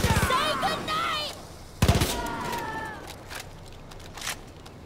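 Gunfire in the video game Far Cry New Dawn, with a short burst of shots near the start and another near the middle, mixed with other game sounds and a voice talking.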